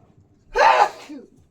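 A single loud sneeze bursts out in a quiet room, a sharp breathy blast lasting about a third of a second followed by a faint trailing breath.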